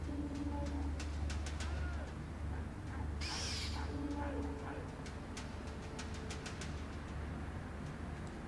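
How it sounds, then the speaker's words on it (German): In Far Cry Primal, a companion owl gives soft, low cooing hoots. They sit fairly faint against a steady background hum, broken by sharp clicks and one brief hissing burst. "Wir aktivieren mal eben kurz unsere Eule."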